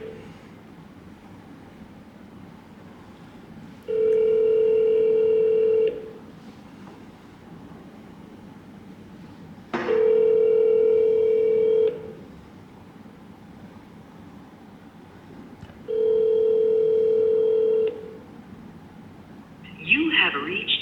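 Outgoing phone call ringback during a cold call for a vending machine business: three evenly spaced electronic ring tones, each about two seconds long and separated by roughly four seconds of quiet line hiss, loud and close.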